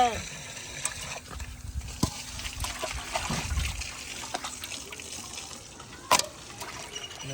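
Water trickles and pours steadily in the background while people talk, with a few clinks.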